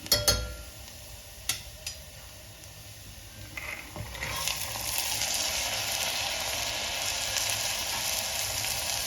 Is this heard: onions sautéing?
yes